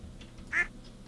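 A single short duck quack in a coop in the Stardew Valley video game, one brief clear call over a quiet background hum.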